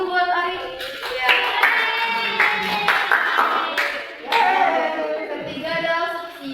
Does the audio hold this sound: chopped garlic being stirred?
no